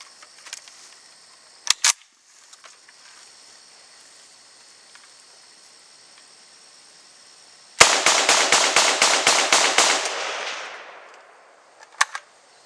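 AK-47 rifle firing in a dirt test with a Korean magazine: a few scattered single shots, then a fast burst of about ten loud, sharp reports with a ringing tail, followed by another lone shot.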